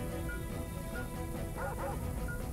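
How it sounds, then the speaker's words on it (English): A pet dog barks indoors beside someone playing Super Mario Galaxy, short yips heard under constant game music and background noise. "Stop barking at me."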